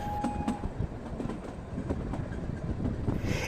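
Shimla to Kalka toy train, train number 52458, running with a steady, close rumble and rhythmic wheel clatter throughout, with no talk.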